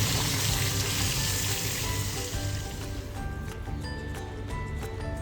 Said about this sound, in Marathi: बटाट्याचे काप टाकून झाल्यानंतर हे सगळं व्यवस्थित असं मिक्स करून घ्यायचं आहे